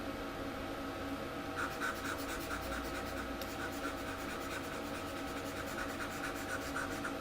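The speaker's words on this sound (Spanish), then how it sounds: "Aquí yo estoy utilizando precisamente el lápiz" A pen stylus draws a selection on a graphics tablet, making a faint, continuous scratchy rubbing that steadies into soft rhythmic strokes.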